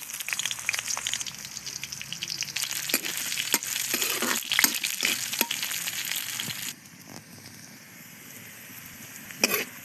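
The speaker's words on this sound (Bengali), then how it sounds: "তেল গরম হয়েছে, পেঁয়াজ দিয়ে দিলাম।" Steady sizzling and crackling of onions frying in hot oil, with sharp clicks and scraping throughout, dropping to a quieter sizzle near the end.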